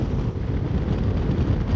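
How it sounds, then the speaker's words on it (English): Wind buffets a GoPro microphone in a continuous low rumble that swamps everything else, steady and loud for the whole stretch, on the road to Cubley, Derbyshire. "it's windy today."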